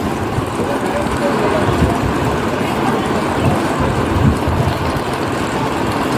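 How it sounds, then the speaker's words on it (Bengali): A train rumbles into a station platform in the rain with a steady, heavy roar and faint rattling of wagons, loud and continuous throughout. "এটা 2 নম্বর প্ল্যাটফর্মে আসছে ট্রেনটা"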